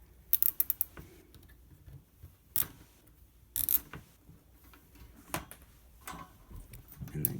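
Hardware being tightened while assembling a DIY craft paint storage unit, with sharp clicking and clacking taps scattered irregularly over several seconds and some handling noise between them, close by and moderately loud.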